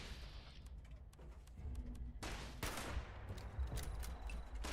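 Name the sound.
hostile protectron robots shooting, gunfire in video game Fallout 76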